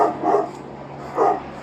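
A police dog barks twice during a Los Angeles foot pursuit, each bark muffled and mid-distance with a pause between them over a low background hum.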